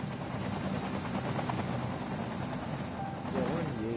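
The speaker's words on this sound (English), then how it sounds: "Look how many helicopters there are." Many helicopters fly overhead, a dense continuous rotor drone and roar held at a steady loud level throughout, with faint tonal chirps near the end.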